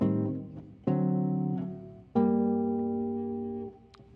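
Jazz guitar plays a minor 2-5-1 chord progression, three sustained chords struck one after another, each ringing out and decaying, close and clear with no talking.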